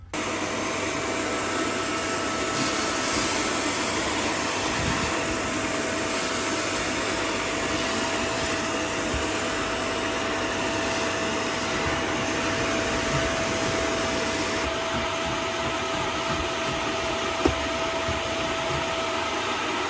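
A Tineco Carpet One carpet cleaner runs while washing stairs, its motor a loud, constant whine with airy suction that holds steady throughout, a faint thump near the end.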